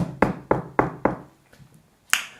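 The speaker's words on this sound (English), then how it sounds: "One day he heard a knock on the door." Four evenly spaced knocks on a door, close and fairly loud, followed after a pause by a faint tap and one more sharp knock.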